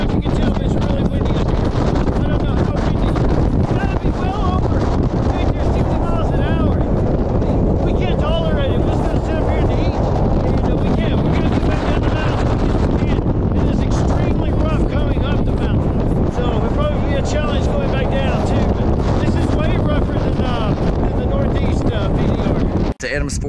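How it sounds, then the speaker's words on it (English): Strong wind buffets the microphone in a steady, loud roar on a Colorado backcountry route, constant rumbling gusts filling the entire stretch with no letup. "I don't know if you can tell, but it's really windy."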